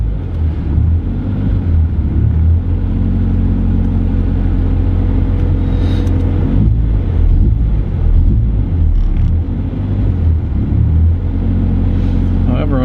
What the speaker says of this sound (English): the idle is dying down a little bit, but fortunately, it's still doing the same thing